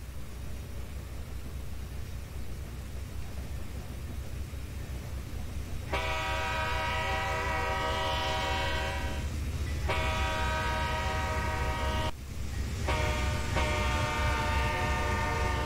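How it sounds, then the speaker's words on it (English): A CSX grain train in a railroad simulator game, led by two ex-Conrail locomotives, rumbles past with a low steady roar, while its horn blares in several long blasts separated by short breaks. "another train was coming. It was a CSX train that was coming down the line."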